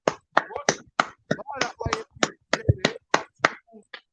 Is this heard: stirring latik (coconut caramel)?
no